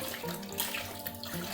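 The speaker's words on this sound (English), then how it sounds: "We can get rid of the dirty water." Dirty gold-panning water pours out in a steady splashing rush, close and continuous, with a brief brighter splash partway through.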